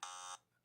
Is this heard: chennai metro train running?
no